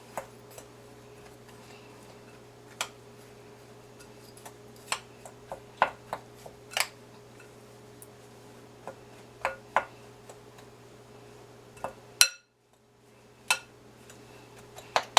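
A spoon working pecans, brown sugar and butter into a crumb in a bowl, heard as sparse, irregular light clicks and taps over a steady low kitchen hum, with one short silent gap.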